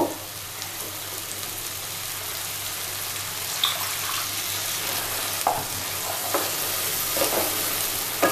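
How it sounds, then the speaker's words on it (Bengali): Masala for a methi chingri dish is stir-fried in a pan with small splashes of water, giving loud close sizzling under repeated spatula scrapes and occasional sharper hisses, with nobody speaking. "এটা আমি আস্তে আস্তে করে কষবো, একটু করে জল দেব।"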